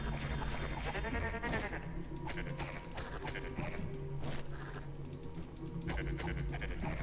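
Goat demons bleat in the video game Book of Demons, with dense game music and effects playing steadily throughout and no talking.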